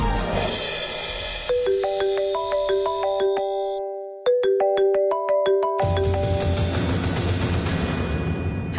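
A phone rings with a melodic electronic ringtone, a repeating tune of rising and falling tones, loud and close, that cuts off briefly and then starts again.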